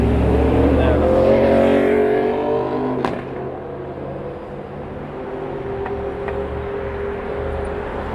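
Busy morning rush-hour street traffic in Hollywood, with cars passing and engines droning continuously at moderate distance, and a few sharp clicks and bumps over the steady roar.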